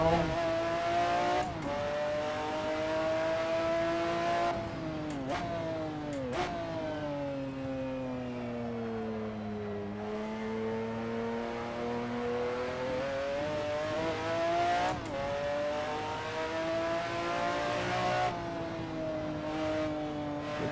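McLaren F1 GTR racing car driven at the Nurburgring in the Assetto Corsa sim, its engine howling loudly and continuously, pitch climbing through gears and dropping sharply on shifts and braking, with no voices heard.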